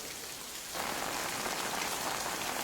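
Steady rain from the Death Stranding video game, known as Timefall, begins abruptly and keeps up a dense, even hiss of drops pattering on surfaces. It sounds close, loud and continuous, with no voices.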